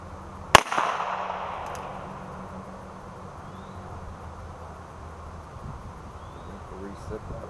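A Beretta PX4 Storm Compact .40 caliber pistol fires once at a range, a single sharp, loud crack followed by a short decay and then quiet background.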